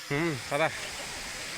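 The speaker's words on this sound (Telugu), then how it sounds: "మరి వాటర్ ఫాల్స్ అనేది సందులో నుంచి వాటర్ వస్తుంది" Waterfall at Rampachodavaram, with water pouring out through a narrow gap in the rock, gives a steady broadband rush that runs the whole time beneath a brief nearby voice.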